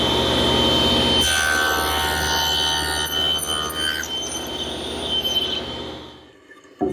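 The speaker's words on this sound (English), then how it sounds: "I use my tenoning jig to make the cheek cuts" A table saw fitted with a tenoning jig cuts the cheeks of a tenon in wood, giving a loud, sustained, high whining cut that runs nearly seven seconds before the blade noise drops away at the end.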